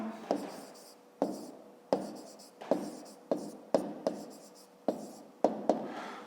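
Chalk or marker writing a math expression during a fifth-grade math lesson, heard as a series of about ten sharp, close taps and strokes with brief scratchy tails, with no speech.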